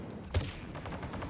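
A short burst of sci-fi gunfire in a Mass Effect 3 multiplayer match, with one sharp report followed by rapid faint shots over steady battle noise.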